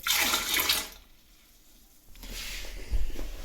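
Dirty distilled water pours out of a PC water-cooling loop, a loud splashing gush at first that fades into a quiet gap, then a second steady stream of pouring and trickling with a short thump near the end.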